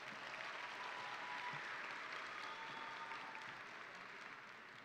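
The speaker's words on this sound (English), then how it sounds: "Can you give them one more round of applause," A high school graduation crowd applauds in a continuous, even wash of clapping that sounds distant and fairly faint, with no speech over it.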